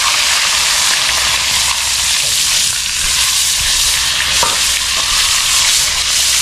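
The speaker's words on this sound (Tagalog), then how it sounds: "Mainit natin ang mantika, ilalagay na natin yung ating isda." Fish frying in hot oil in a pan, a loud, steady, dense sizzle that crackles continuously throughout with no talking.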